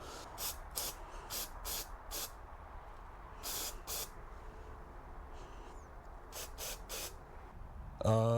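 Short hissing bursts of cleaner are sprayed onto the mass airflow sensor of a BMW E46, coming in quick clusters of several squirts separated by pauses, close and fairly clear over a quiet background.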